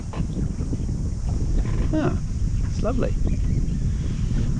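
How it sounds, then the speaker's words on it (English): Wind blowing over a Pathfinder sailing boat out on the water: a steady, broad rumble of gusts and microphone buffeting that runs without a break, with someone speaking briefly over it. "Just too much wind out here at times."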